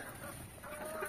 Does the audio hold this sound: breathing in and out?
no